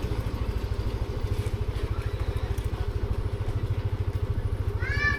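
Motorcycle engine descending a steep, slippery road near La Trinidad, Benguet, a close, steady low throbbing pulse with rapid even firing beats, carrying on throughout without talk.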